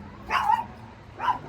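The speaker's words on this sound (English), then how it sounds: "that's my dog" A dog gives two short barks a moment apart, fairly faint and somewhat distant over a low indoor background hum.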